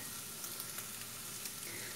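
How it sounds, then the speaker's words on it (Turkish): Bulgur frying in melted fat in a pot for meyhane pilaf, a steady dense sizzle with faint stirring scrapes, close and continuous with no talking. "Yağım eridikten sonra bulgurumu boşaltıyorum. Bulguru yıkamıyoruz arkadaşlar. 2-3 dakikada bulgurumu çevireceğim."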